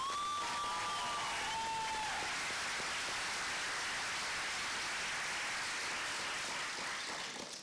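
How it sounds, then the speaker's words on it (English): A high school graduation crowd applauds the seniors, a broad loud wash of clapping that fills the space continuously, with a brief high whistle or cheer near the start. "Seniors, again, clap it up."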